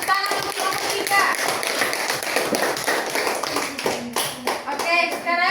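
A classroom group of students claps for a fellow student group, a lively burst of many hands striking irregularly and close by, with children's voices mixed in and the clapping thinning out near the end.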